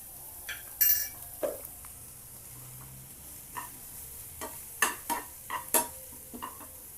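Masala fries in a pan after red chilli powder is added, with sharp spoon clinks and scrapes against the pan. Faint sizzling sounds between the irregular stirring strokes, with no talking.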